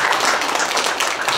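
Audience clapping in a museum hall at a spoken event, a loud, dense burst of many hands filling the short moment without pause.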